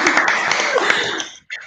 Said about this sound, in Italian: fatele un applauso